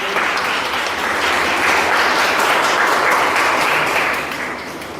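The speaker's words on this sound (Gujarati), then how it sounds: "આપણે સૌ તેમનું તાળીઓથી સ્વાગત કરીએ" Sustained group applause welcoming visiting women from a housing society at an institution for the blind, steady many-handed clapping that swells through the middle and tapers slightly at the end.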